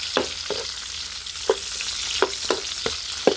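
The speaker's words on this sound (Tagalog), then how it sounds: "bawang sa sibuyas, nagisa na, ilagay natin yung luya. Palabasin lang natin yung aroma ng luya. Kunting gisa lang yan." Ginger sautéed with garlic and onion in a pan for Filipino pakbet: a steady close sizzle of oil with about eight sharp utensil scrapes and clicks against the pan at an uneven rhythm, no voices.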